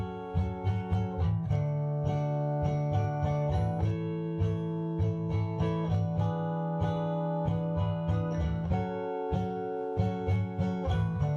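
Acoustic-toned guitar in drop D tuning strumming the chords of a song in a steady rhythmic pattern, continuous ringing chords with regular down-up accents, fairly quiet and alone.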